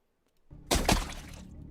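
Gore enhancer gunshot effect: a sharp, loud double-hit blast that bursts out after a brief low rumble, then decays into a crackling, splattery tail.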